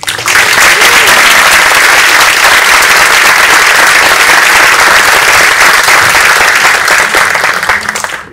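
A graduation ceremony audience breaks into loud, sustained applause that fills the room with dense clapping from start to finish, then cuts off abruptly.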